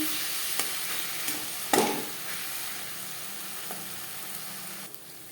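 Bhola bhetki fish stirring and frying with spices in oil, a steady low sizzle with scraping stir strokes and one sharper clatter near the start, moderately close.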